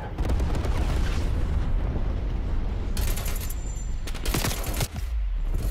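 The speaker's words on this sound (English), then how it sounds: "They got a napalm coming." A napalm strike in Call of Duty Cold War roars as a heavy, sustained rumbling blast with dense crackling fire, broken partway through by two short sharp bursts of gunfire.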